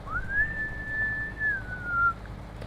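A whistled melody line from a song: one clear, pure note slides up, holds steadily for nearly two seconds, then dips slightly and fades, heard alone and up close.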